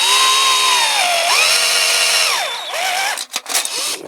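A power drill whirs loudly and close during a restoration of a Dinky Toys Leyland Octopus model, its motor pitch dipping and rising under load several times before stopping with a few short bursts and rattles.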